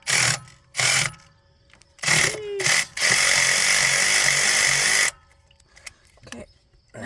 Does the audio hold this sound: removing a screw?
yes